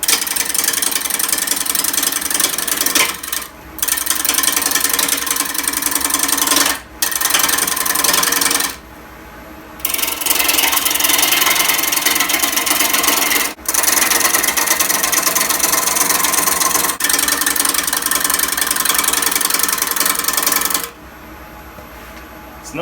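A lathe turns a rough, diseased chokecherry bowl blank riddled with old dead knots and voids, giving a loud, gritty, sustained scraping roar. It is broken by several brief pauses where the tool lifts off the wood.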